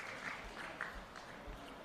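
A distant crowd applauds a player at a men's Premier League football match between Darwin Olympic Sporting Club and Mindil Aces, giving a steady, continuous patter of clapping.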